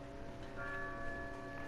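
A church bell tolls in the village of the video game Resident Evil 4, a quiet, sustained ringing tone with lingering overtones over a soft background hum.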